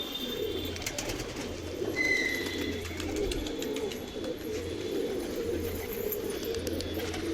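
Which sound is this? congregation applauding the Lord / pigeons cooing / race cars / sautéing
pigeons cooing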